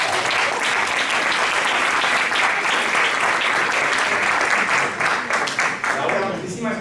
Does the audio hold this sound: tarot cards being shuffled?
no